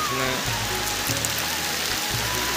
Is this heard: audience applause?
no